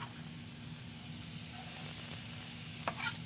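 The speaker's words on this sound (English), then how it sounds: "I have a hot pan here. I have olive oil in there. We're going to add these shallots." Garlic and shallots sauté in olive oil in a hot pan with a soft, steady sizzle, quiet and even, broken by a brief stir near the end.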